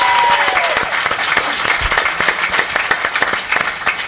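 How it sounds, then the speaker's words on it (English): A conference audience applauds panelists at a science talk event, a loud, dense burst of many hands clapping continuously throughout with no pauses. "give them one more round of applause to Plait and George Hrab"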